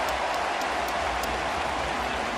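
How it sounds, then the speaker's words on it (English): Ballpark crowd at the Rogers Centre during a baseball game, a broad, steady wash of cheering and applause with no distinct voices standing out. "Some cheering for Guerrero for making a nice play"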